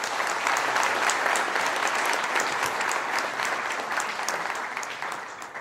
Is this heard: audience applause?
yes